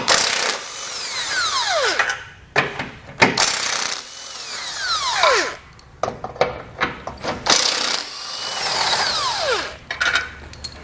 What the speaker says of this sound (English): There's 3 bolts we're going to take out with a 15mm socket.